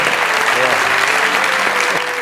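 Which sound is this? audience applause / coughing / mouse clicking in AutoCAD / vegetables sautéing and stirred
audience applause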